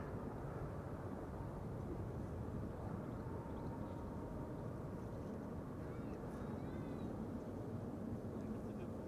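A KLM wide-body airliner at Amsterdam Schiphol Airport: a broad, steady jet roar holds at even strength the whole time, fairly distant, with faint voices beneath.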